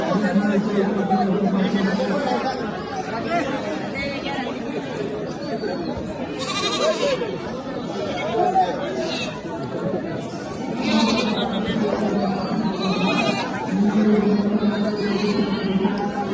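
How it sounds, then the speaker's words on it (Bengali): Goats bleat at a crowded Qurbani livestock market, a few short bleats rising now and then above steady chatter and someone talking nearby. "এখানে ছাগল উঠছে কোরবানির বাজারে"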